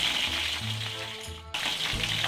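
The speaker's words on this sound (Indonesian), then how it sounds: "kita goreng hingga matang dan berubah warna ya" Chicken pieces fry in a pan over medium heat for a black pepper paprika chicken dish, with steady close sizzling and crackling throughout and a brief lull near the middle before it resumes.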